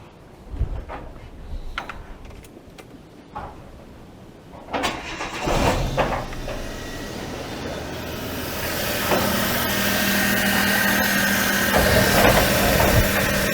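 A few clicks and clunks, then a Daewoo Matiz engine cranks and starts, settling into a steady, loud running drone that continues to the end, during a coolant flush.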